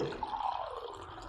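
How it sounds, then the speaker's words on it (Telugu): Lukewarm water poured into a glass, a brief faint trickle with a rising pitch as the glass fills, close and alone. "అలా గ్లాసులో వేసేయాల వేసి గోరువెచ్చని నీళ్ళు"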